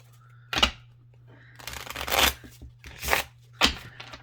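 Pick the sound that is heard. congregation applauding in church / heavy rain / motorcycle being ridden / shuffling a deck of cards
shuffling a deck of cards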